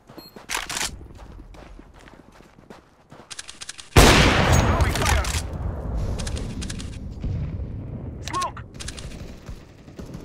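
Counter-Strike: Global Offensive gunfire: a few scattered shots early, then a loud burst of firing with a booming report and sustained rattling, alongside footsteps and game noise, with a voice talking in places.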